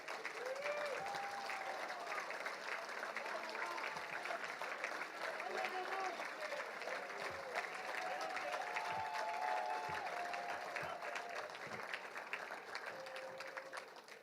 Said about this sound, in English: So parents, if you could stand up real quick, and players, give them a round of applause.